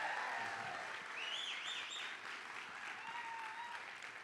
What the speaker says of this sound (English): Can we give a big round of applause for the team?